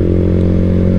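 A motorcycle with a racing exhaust idles as the revs fall, a loud, close, steady engine drone with a strong low hum and no popping or crackle, heard alone without talk.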